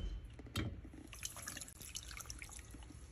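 Water is poured into a pot of candied orange peels and sugar, giving a brief splash followed by a continuous close trickle and gurgle of liquid filling.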